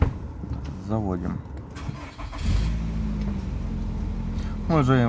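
A 2017 Nissan Rogue with a 2.5-litre petrol engine starts up, the starter cranking briefly before the engine catches and settles into a steady idle, with someone talking over it at close range.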